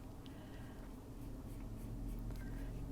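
Pencil coloring on paper, a soft continuous scratchy scraping that runs steadily up close throughout, with faint bird calls in the background.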